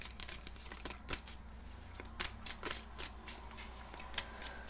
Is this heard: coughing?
no